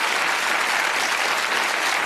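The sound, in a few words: audience applause on a game show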